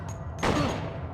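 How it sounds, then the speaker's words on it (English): Gunfire breaks out in a gunfight in the PS2 video game Silent Hill 2, a single loud burst of shots that hits suddenly, rings out and decays over about a second. "Wasn't expecting to get into a gunfight."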